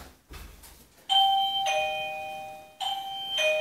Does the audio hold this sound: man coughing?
no